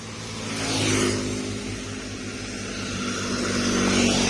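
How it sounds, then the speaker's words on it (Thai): Continuous engine rumble of a vehicle rising and easing as it moves past nearby, with broad road noise and no voices. "มีเสียงรถนิด นึง นะ"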